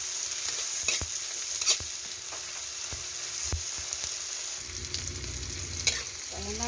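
Food sizzles and fries steadily in a pan while mussels dish is cooked, with occasional clinks and stirring scrapes over a continuous crackle, no talking.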